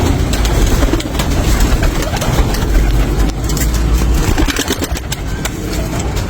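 Pigeons coo amid a dense, steady wash of background noise, with the birds blending into a constant rumble.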